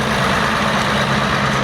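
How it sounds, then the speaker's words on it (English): An AEC Matador timber tractor fitted with a Darlington winch idles at a steady, even rumble, a heavy continuous diesel drone with no speech. "this is a timber tractor. It's a Matador with a Darlington winch on it."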